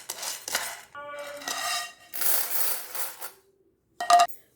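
Dry-roasted idli podi ingredients scraped from a pan onto a plate, giving several separate bursts of metallic scraping and rattling, the last one short and sharp.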